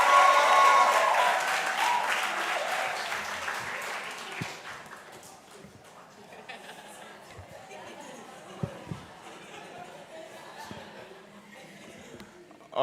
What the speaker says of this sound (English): give a loud cheer for Andrew Adala as he comes on stage.